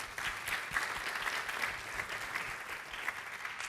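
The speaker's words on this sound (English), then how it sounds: "Let's give Nate a round of applause" A conference audience at a healthcare voice-technology summit applauds a speaker, steady dense clapping from many hands filling the room for several seconds, without talk.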